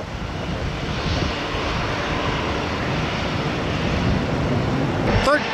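An airliner, American flight 1369, on its takeoff roll from runway 1 right: a broad, steady engine roar held at a constant level throughout, heard from a distance.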